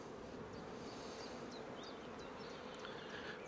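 Honeybees buzz around an open hive frame during beekeeping, a faint, steady swarm drone with individual bees passing by, constant and without speech.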